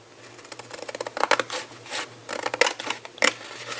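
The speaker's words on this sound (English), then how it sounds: "I'm going to cut this part with my scissors." Scissors cut through card stock up close with a run of crisp snips and rasping slices in an uneven rhythm, building in loudness midway. No one speaks.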